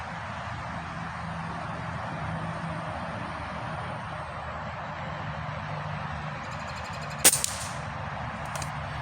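A Benjamin Akela .22 PCP air rifle fires a single sharp, short shot at a target, standing out against a steady low background hum.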